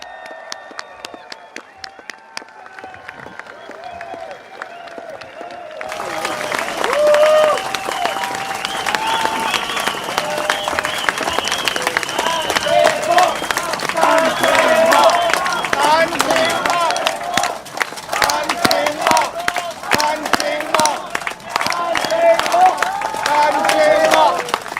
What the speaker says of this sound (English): Please put your hands together, ladies and gentlemen.